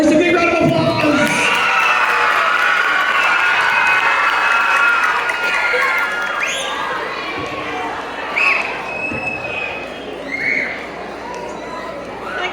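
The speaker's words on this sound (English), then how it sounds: "let's give Angela and Doris a big round of applause" Schoolchildren and staff at a Chinese New Year school assembly applaud two students from the Mandarin class. The dense clapping and cheering are mixed with shouts and chatter, then die down into scattered crowd noise.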